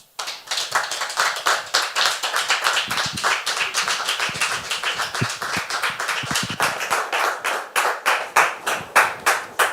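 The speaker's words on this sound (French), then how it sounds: "Et je voudrais qu'on la reçoive, s'il vous plaît, sur vos applaudissements." Studio audience clapping to welcome a guest onto a French TV show, loud and close with distinct individual claps forming a dense, rhythmic burst that carries on steadily for several seconds.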